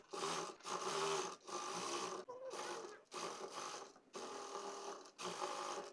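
A sewing machine stitches lace onto the lower tier of a layered skirt made from suit fabric. It runs in rapid bursts of about half a second to a second each, separated by short pauses, and sounds close and fairly quiet.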